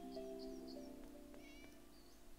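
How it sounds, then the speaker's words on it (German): A cat meows three times in quick succession in the Divine Divinity video game, short bright calls over a steady, droning game music bed, followed by a fainter rising mew near the end. "Achso, eine Katze."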